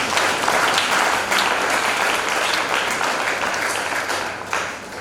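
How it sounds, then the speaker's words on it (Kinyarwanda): Loud, dense applause from a crowd fills a church anniversary celebration, continuous clapping that stays strong for the whole stretch and tapers only slightly near the end. "Nikomera amashyi mukuru."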